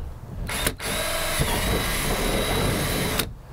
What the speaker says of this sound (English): We could drill right through this compartment here.